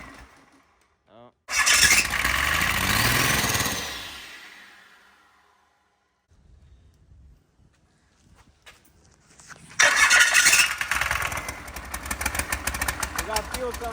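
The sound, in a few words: Cummins 12 valve 6BT diesel engine cranking and starting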